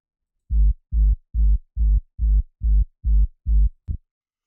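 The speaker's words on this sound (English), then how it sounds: "the rumble part" Eight evenly spaced, heavy low rumble pulses from a dark techno track built on retro sound effect samples thump alone at a steady pace, ending with a short clipped hit.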